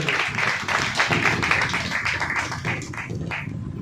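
Loud, dense clapping from a church congregation during a worship service, steady and sustained throughout, with some voices mixed in beneath the applause.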